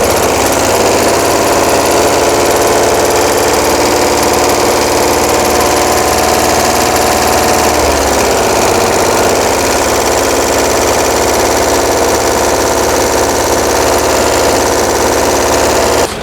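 A 1982 VW Vanagon engine, converted from fuel injection to a single 38mm carburetor, idles steadily up close with a loud, even mechanical drone and a light clacking valve tick, no popping, no voices.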